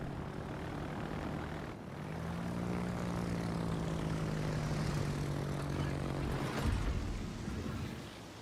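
Enemy aircraft engines in the naval combat game World of Warships drone steadily with a rising propeller hum that swells and holds, then fades after a brief louder burst near the end, heard alone without talk.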